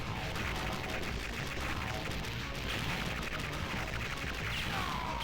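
Metal Slug 3 played on Neo-Geo MVS arcade hardware: a dense, continuous barrage of rapid game gunfire and explosions, steady and loud throughout, without talking.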